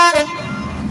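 A Class 66 diesel locomotive, number 66781, sounds a loud, brief horn blast as it passes through South Kenton, followed by the rumble of the engine.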